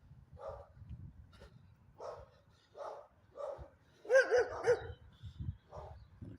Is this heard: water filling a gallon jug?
no